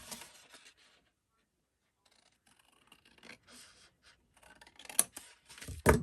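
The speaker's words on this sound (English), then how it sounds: "So just grab your scissors, and on that pencil line," Scissors snip through paper along a pencil line while a country bunny basket craft is cut out, giving close, crisp cutting bursts in short intermittent runs separated by quiet pauses.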